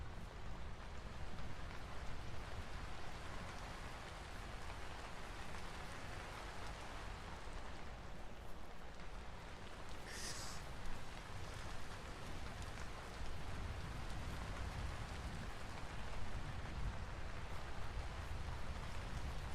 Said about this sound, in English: you can only hear the rain muffled, because the rain isn't landing right around you